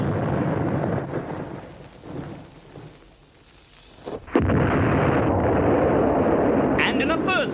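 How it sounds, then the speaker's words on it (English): Two cartoon submarines blow each other up in a loud, booming explosion that erupts suddenly and then rumbles on steadily, following a quieter windy stretch. "I'm glad those 2 fake submarines blew each other up."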